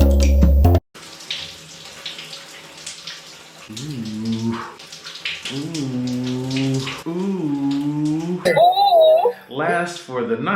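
Tap water runs while a hair mask is rinsed out, a steady splashing rush that sits mostly under a person talking throughout.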